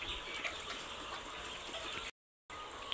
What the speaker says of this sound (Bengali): এখানে মুরগি আছে 3000 মুরগির শেড।